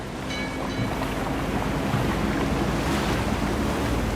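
Sea waves wash steadily around a sailing ship in the game Guild Wars 2, with wind noise and a continuous surf roar throughout, no talking.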